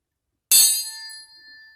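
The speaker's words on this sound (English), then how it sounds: "another example would be a triangle. It's caused by you hitting the two metals together and the triangle vibrating." A metal triangle is struck once after a short silence, giving a bright, sharp strike that leaves a high, pure ring slowly fading away.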